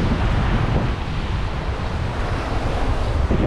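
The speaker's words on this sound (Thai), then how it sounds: "ดูบรรยากาศนะครับลมก็แรง" Strong wind buffets the microphone at the seaside, a loud, continuous broadband roar mixed with the wash of surf, with no voices.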